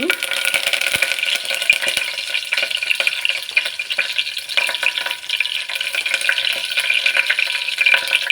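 Spices and curry leaves hit hot oil for tomato bath, producing a loud, busy sizzle with rapid crackles and pops, continuous and close up.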